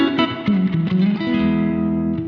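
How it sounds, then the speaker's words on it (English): Electric guitar played through a Zoom MS-100BT multi-effect set to spring reverb, emulating a Fender-type amp: a few picked notes, then one held, ringing note with a slight metallic reverb tail, close and loud, no talking. "I prefer a spring reverb."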